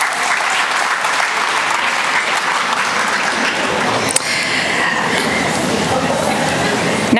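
A large school-district convocation audience applauds steadily and loudly, a dense wash of clapping that holds without pause for several seconds, with faint crowd chatter mixed in.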